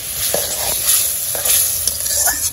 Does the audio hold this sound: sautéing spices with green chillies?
yes